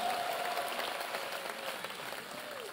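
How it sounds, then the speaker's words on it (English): A church congregation applauds during a Sunday homecoming service, a dense, sustained wash of clapping from many hands that continues throughout, with faint voices mixed in. "clap for yourselves, everybody, for being part of this service."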